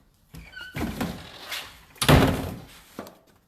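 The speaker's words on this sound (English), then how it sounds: "I shut the door" A door is pushed shut in a home, with a couple of shuffling movements and a louder thudding knock of it closing, then a small final tap.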